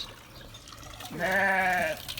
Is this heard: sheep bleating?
yes